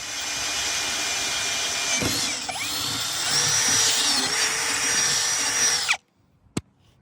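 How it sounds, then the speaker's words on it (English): A power drill whines steadily for about six seconds, its pitch wavering as it bores through material on a utility trailer, then cuts off abruptly followed by a single clack. "after I drill this one out"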